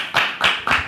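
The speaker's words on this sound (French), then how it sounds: "On peut l'applaudir papa" A few people clap on a French web TV show, three distinct bursts spaced evenly, fairly close and sparse rather than a full crowd.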